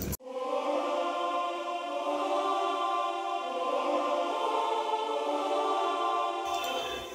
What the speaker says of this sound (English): And I added this choir, so the choir sound like this.